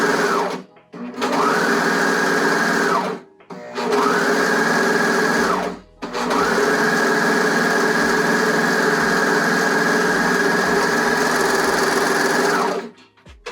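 A serger sewing machine stitches elastic onto swimsuit fabric in several loud, close, sustained whirring runs, the first bursts short, then one long continuous stretch, with brief silent pauses between.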